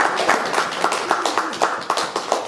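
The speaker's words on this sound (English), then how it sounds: "I think we should give Gary a little round of applause for yesterday's performance" A quiz audience gives a short round of applause, a thin spread of quick claps, moderately loud and steady, with no talk over it.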